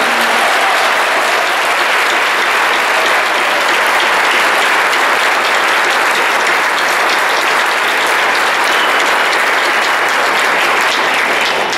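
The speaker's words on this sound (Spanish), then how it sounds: "Un aplauso para Jesús," A congregation applauds Jesus during a worship concert marking fifteen years of the Abba Padre ministry, a loud, steady wall of clapping that fills the whole stretch without letup or spoken voices.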